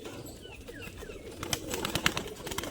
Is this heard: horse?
no